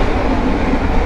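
Loud, continuous rumble and rattle of a moving economy-class passenger train carriage in Indonesia, a dense steady roar with no talking.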